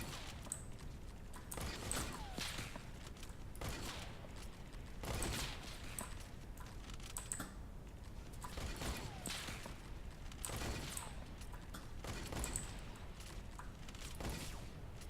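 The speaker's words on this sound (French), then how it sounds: "J'ai mis 2 balles à lui et une balle à NSX, hein." Rapid gunfire from a first-person shooter game plays in repeated bursts, with mechanical clicks and impacts scattered between them, at steady moderate loudness throughout.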